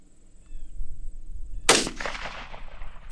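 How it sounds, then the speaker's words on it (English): A rifle firing 7.62x39 150-grain ammunition lets off one sharp, loud crack, followed by a fading ricochet whine and a brief echoing tail outdoors. "I'm hearing ricochets"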